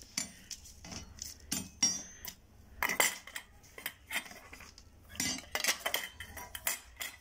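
Stainless steel feeding bowls for parrots and pet birds clink and clatter against each other in irregular bursts of bright metallic knocks and rattles, close up, with no talking.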